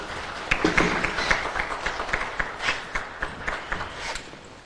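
Audience applause for a panel at a Zimbabwe contact center conference on the African outsourcing industry, a steady patter of clapping hands in a hall, moderately loud and continuous with small swells throughout.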